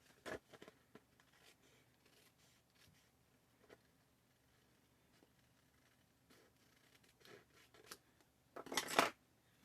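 Card for a fun fold card trimmed with scissors: faint, sparse snips and paper rustles at close range, ending in a louder crisp cut.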